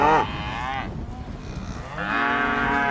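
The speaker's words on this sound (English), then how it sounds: "these cows are raising such a ruckus" Cows on a pasture moo loudly and close by, one long drawn-out low call followed after a short gap by another, with no talk over them.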